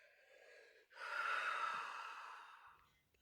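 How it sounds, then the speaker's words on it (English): A slow, close breath during a calm mindfulness exercise: a soft inhale, a brief catch, then a long, steady, breathy exhale that gradually fades out, with no one talking over it. "Just take a breath."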